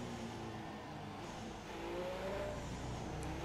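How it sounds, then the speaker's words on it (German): The engine of a Mercedes SLS safety car in the racing game F1 2017 drones steadily at moderate volume with a slight rise in revs, no talk over it. "Jetzt hören wir mal den Motorsound vom SLS."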